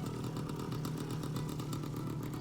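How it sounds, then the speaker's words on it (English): A motorcycle engine runs steadily at a campground, a continuous buzzing drone held at even loudness throughout with no voices. "ride his motorcycle back to his"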